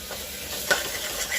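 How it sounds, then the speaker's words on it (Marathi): A masala spice paste roasts in oil over a low flame, giving a soft, steady sizzle with one brief stirring clink and a few faint scrapes. "आता हा मसाला व्यवस्थित तेल सोडेपर्यंत भाजून घ्यायचा आहे"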